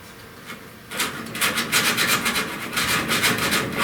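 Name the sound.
block sanding body filler on a car panel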